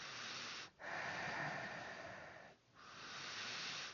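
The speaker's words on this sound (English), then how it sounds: "I would just breathe through the nostril on the side that need more opening" Slow nostril breathing during alternate nostril (Nadi Shodhana) practice: a steady, close airy hiss of air drawn and pushed through the nose, with two brief pauses between long breaths and no talking.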